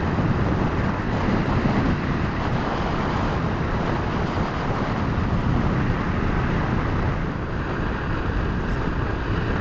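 Riding a Honda VFR motorcycle on new Bridgestone tyres, with steady loud wind rush buffeting the microphone and a low road and engine rumble underneath throughout.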